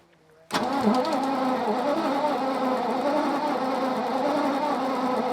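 Starter motor cranks a rare coachbuilt barn-find V12 car engine that refuses to fire, a steady continuous whirring churn kicking in abruptly after a brief quiet moment and running loud and unbroken to the end.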